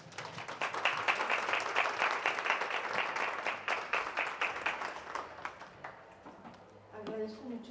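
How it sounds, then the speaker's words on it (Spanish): An audience at an academic talk breaks into clearly separated clapping that tapers off toward the end, where a voice begins speaking over the last scattered claps. "Un aplauso,"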